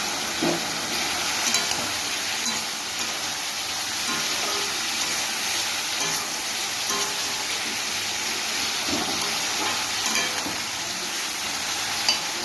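Chopped onions go into hot oil in a pan with softened, fried vegetables for a spicy chapila fish chorchori. A steady, close sizzle runs throughout, with scattered light stirring clicks and no talking.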